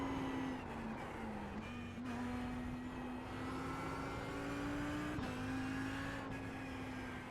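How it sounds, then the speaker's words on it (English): A sim racing car drones on the Roval, a steady loud engine note that holds with small gear-shift dips while another faster-class car approaches, with no talking. "there's a faster class car approaching"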